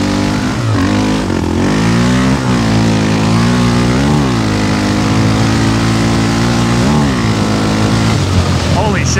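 A loud, close 686 cc big-bore quad ATV with a big cam revs hard, its engine rising and falling in repeated throttle blips through the whole stretch, with no voices heard.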